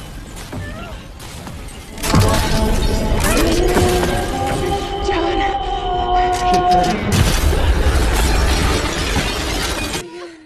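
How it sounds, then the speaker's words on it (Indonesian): Glass panes shatter in a horror film scene. A sudden loud crash bursts in after a quieter opening, and dense breaking and tinkling debris with bright ringing tones carries on for several seconds before cutting off. "Suara nyanyian Lilith semakin keras terdengar dan membuat kaca-kaca pecah berhamburan"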